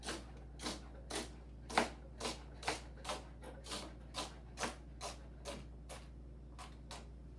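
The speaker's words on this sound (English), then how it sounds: "dice it up in probably half-inch chunks" A knife chops fresh rhubarb into half-inch chunks on a board, about a dozen crisp, evenly spaced cuts at a steady rhythm, close and distinct against a quiet low hum.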